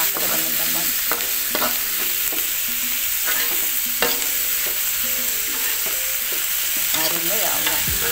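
Food fries in a pan in a home kitchen with a steady loud sizzle, while a utensil stirs and scrapes against the pan in repeated close knocks, with no talking.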